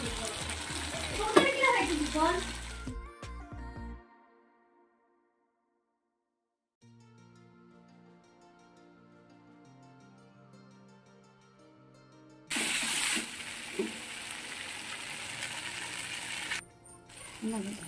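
Masala fries in a pan for hilsa fish curry, giving loud sizzling and stirring at the start and again near the end, with a long quieter stretch of tonal sound between.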